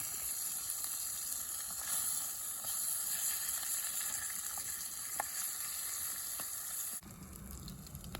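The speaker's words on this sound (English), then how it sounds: "Fry up bacon, fry up potatoes in the bacon." Bacon sizzles and spits in a pan on a camp stove, a steady crackling fry heard close but fairly quietly, its tone shifting near the end.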